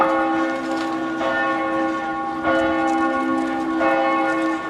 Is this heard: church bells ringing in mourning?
yes